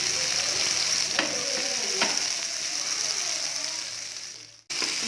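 Fish fries in oil over a medium flame, a steady bright sizzle with a couple of soft clinks from stirring or turning, cutting off abruptly near the end before the sizzle resumes.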